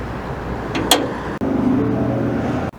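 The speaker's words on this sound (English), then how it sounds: "this engine has a ton of power, it sounds great, and it makes the truck go vroom vroom" A 2022 Ford F-150 Super Snake Sport truck engine gives a steady rumble with a low, continuous drone and a brief sharp knock partway through, running without pause and fairly close.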